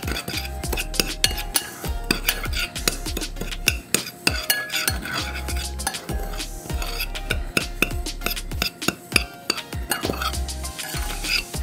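Metal utensils scrape and clink against a bowl while roast duck ingredients are broken up and mixed by hand, a busy run of stirring, tapping and clattering that continues close and steady without talk.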